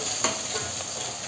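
Two tomatoes fry and get stirred in a pan with onions, giving a steady close sizzle and a few light scraping stirs.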